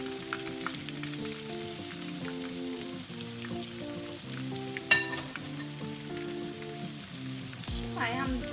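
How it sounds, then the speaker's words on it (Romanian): Pork meatballs sizzle in hot oil in a pan with steady crackling and spitting, over soft background music, with one sharp clink of a utensil midway. "Terminat de prăjit chifteluțele."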